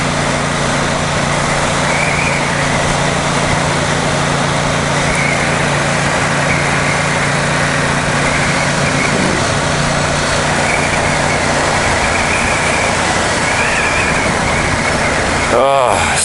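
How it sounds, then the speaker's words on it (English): A 2021 Ducati XDiavel Dark motorcycle, Euro 5 compliant, rides through Royal National Park, its engine a constant loud droning rumble mixed with wind rush that holds steady throughout, ending in a brief sharp disturbance. "Gotta listen to that motor."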